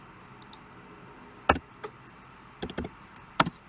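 Sharp mouse clicks on a computer are heard, singly and in quick pairs, scattered irregularly over quiet room tone with no talking.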